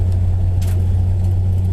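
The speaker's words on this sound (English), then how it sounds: "we're testing the car on some gravel now" A 1951 Hudson Hornet race car rumbles along a gravel road, a loud steady low engine drone with faint crunching from the tyres.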